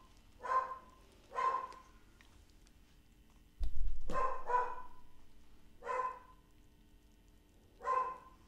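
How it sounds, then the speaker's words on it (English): Dogs bark off and on, about six separate barks or short pairs spaced a second or two apart, moderately close against a quiet room with a low hum and one brief thump. "Can you hear the dogs barking?"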